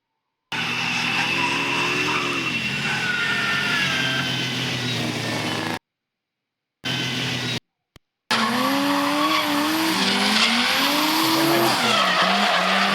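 A JZX car drifts with loud, sustained tire squeal and a revving engine rising and falling, close by, broken by brief gaps of silence.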